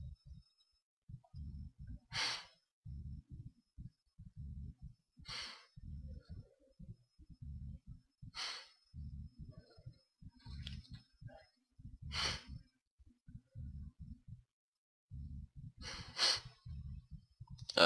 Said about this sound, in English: Pardon the sniffling, I have allergies